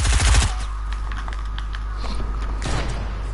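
Gunshots in a video game crack out in a loud opening burst, then a series of lighter, quick shots follow at a moderate distance.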